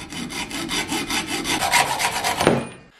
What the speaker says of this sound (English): we might even cut the weapon axle as well